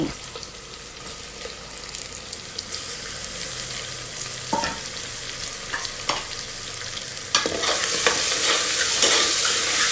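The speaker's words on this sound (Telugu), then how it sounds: "ఇప్పుడు మీడియం సైజులో కట్ చేసుకున్న ఆనియన్స్ యాడ్ చేయండి. ఇప్పుడు నీట్గా కడిగి ఉంచుకున్న రొయ్యల్ని యాడ్ చేయండి." Prawns and sliced onions frying in a pressure cooker, a continuous close sizzle with repeated spoon stirs and scrapes that grow louder partway through, no voices.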